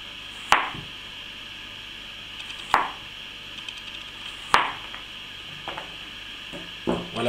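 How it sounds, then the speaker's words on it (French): Knife cutting courgettes into even rounds, skin left on, with sharp chops landing on a board about every two seconds, close and distinct over a low background hiss, no voices. "Pour les courgettes, même procédé, donc on fait des tranches plutôt régulières"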